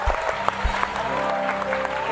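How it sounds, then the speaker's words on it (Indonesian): Studio audience at a birthday talk show claps for a guest named Kiki, a moderate wash of clapping under background music and some low thumps. "Silahkan tepuk tangan buat Kiki"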